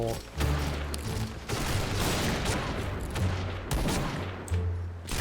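Old sniper rifle shots in the online shooter Point Blank, a quick series of sharp cracks scattered across the moment amid other battle gunfire, with a voice talking faintly underneath.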